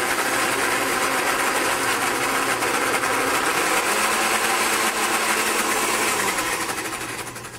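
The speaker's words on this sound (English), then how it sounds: "you want to bring your blender up to top speed" A blender whirs at top speed making a Portuguese Lisbon sauce for cataplana, a steady, dense motor whine that holds constant for several seconds before easing off at the end.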